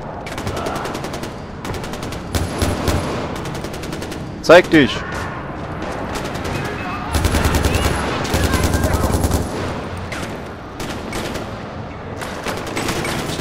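Bursts of rapid gunfire from Far Cry 4, including sustained automatic volleys and a couple of sharp louder shots, with someone shouting briefly between them.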